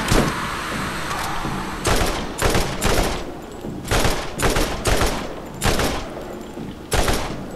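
Gunfire in the Borderlands video game, a shotgun among the weapons: a string of loud, sharp blasts spaced irregularly through the stretch, each one a broad burst over a steady game backdrop.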